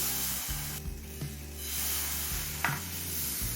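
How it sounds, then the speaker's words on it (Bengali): Patishapta pitha batter poured into a pan greased with oil gives a soft, steady sizzle with a brief sharper hiss, under a low background hum. "এবার পরিমাণ মতো ব্যাটার দিয়ে নেব"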